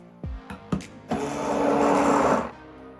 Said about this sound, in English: Any of the last stubborn clumps here you can just break up with your stick blender